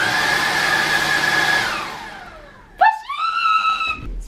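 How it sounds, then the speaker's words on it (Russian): A vacuum cleaner runs with a loud broadband whoosh that slowly winds down and fades, then a sharper motor whine starts up abruptly and holds steady near the microphone while being used to clean a sofa. "И идем пылесосить диван."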